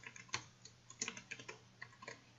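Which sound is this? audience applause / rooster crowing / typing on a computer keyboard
typing on a computer keyboard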